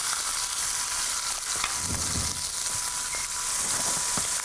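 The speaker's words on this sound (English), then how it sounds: "sear that side right there." A sous vide rack of lamb with scored fat being seared in a hot pan, a steady close sizzle and popping throughout with faint low bumps, no talking over it.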